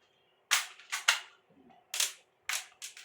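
Pellet gun fired several times in quick succession, sharp close cracks and snaps in an irregular burst of about six shots within three seconds.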